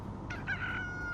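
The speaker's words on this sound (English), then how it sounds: "It's just like a bunch of chickens, I guess. Maybe it's not all roosters" Chickens and roosters heard from a car on a road: a brief, faint cluck or crowing call rising out of a low rumbling background.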